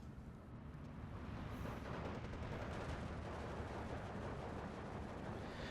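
Artillery barrage from ISU-152 self-propelled guns in the Steel Division 2 war game, a dense continuous rumble of heavy booms and gunfire layered with battle noise throughout.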